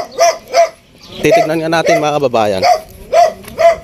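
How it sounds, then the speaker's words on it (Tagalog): A farm dog barks sharply a few times at close range, and someone talks over the middle stretch before more barks follow. "Aso nila kuya."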